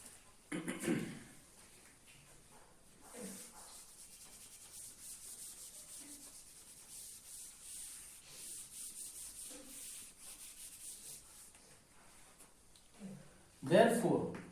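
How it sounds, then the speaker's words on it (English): An eraser rubs out writing on paper in quick repeated scrubbing strokes, faint and close, interrupted by a few louder bumps, while a person talks throughout. "We'll rub out the top part."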